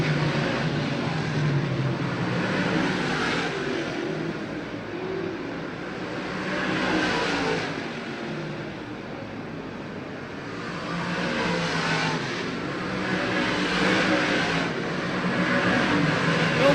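Race cars lapping an oval dirt track during a feature race, engines swelling and fading in repeated passes as the field goes by at moderate distance, a continuous roar with periodic crescendos.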